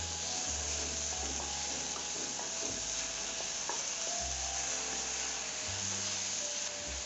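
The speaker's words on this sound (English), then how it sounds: "garlic, and we literally need to saute this just for a minute" Garlic sautéing with a little salt in a pan for vegetable soup, a steady soft sizzle with occasional light stirring scrapes running throughout, fairly quiet and close.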